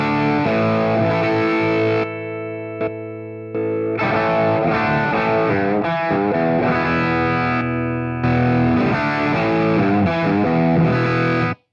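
Electric guitar through an overdrive pedal, playing full, sustained chords and riffs with brief pauses between phrases, loud and alone.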